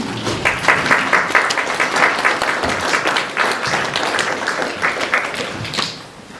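A poetry-recital audience responds after a love poem with steady applause and scattered oohs, a dense patter of clapping that continues for several seconds before tapering at the end.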